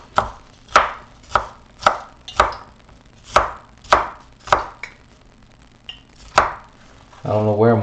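A knife chops through sausage on a cutting board for a gumbo with chicken, sausage and shrimp, about ten sharp, evenly spaced strokes, loud and close. A brief sizzle or rumble follows at the end.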